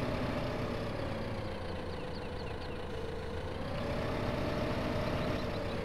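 A small tractor engine idles steadily in Farming Simulator 15, a constant low rumbling drone with a faint higher whine over it, unchanging throughout.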